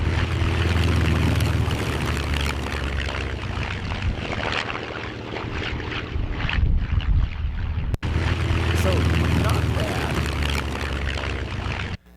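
AI-generated sound of an old-style biplane performing a Cobra maneuver: a steady droning propeller engine roar with wind rush, swelling briefly, cutting out for an instant, then resuming loud.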